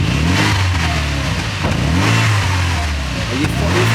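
A cold car engine starts up and revs, its loud, close drone rising and falling in a few swells, with voices talking over it.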